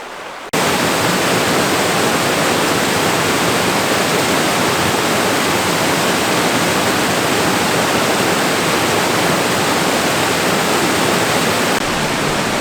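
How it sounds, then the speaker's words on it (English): Steady, full rushing roar of a small waterfall in Arizona, loud and unbroken throughout, with no voices. "There's a nice little waterfall right here."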